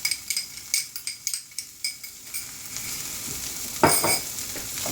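Garlic and bay leaves frying in a pan for red wine braised short ribs, a steady bright sizzle with quick rhythmic utensil taps and stirring scrapes, close and clear with no talk.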